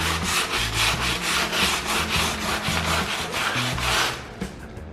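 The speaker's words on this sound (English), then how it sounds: "I'm sanding it down all the carved and narrow areas manually with the sandpaper where sanders cannot be used" Folded sandpaper rubbed by hand over the carved, narrow parts of a wooden dining table, a close, steady scratchy swishing in quick repeated back-and-forth strokes that continues throughout, then eases off at the end.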